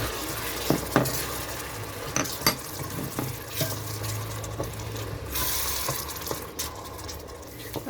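Grated fresh tomatoes sizzle and fry in a pan for a cauliflower sauce, with steady crackling broken by sharp stirring clinks and scrapes of a utensil against the pot, close and moderately loud.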